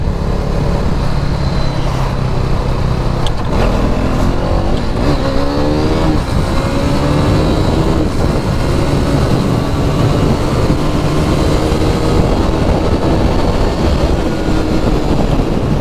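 A KTM RC390 motorcycle on a first ride, its engine droning loudly and steadily with rising and falling rev sweeps and heavy wind rush throughout, no talking.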